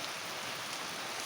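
Heavy rain falling in Mysore, a steady, soft hiss of downpour heard quietly at a distance, with no voices.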